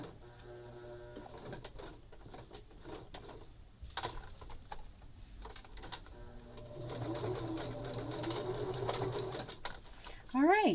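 A domestic sewing machine stitches a fabric needle book cover in quick bursts of rapid mechanical chatter, starting and stopping, then running longer near the end, with birds cooing faintly in the background.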